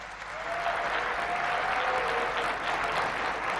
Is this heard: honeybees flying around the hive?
no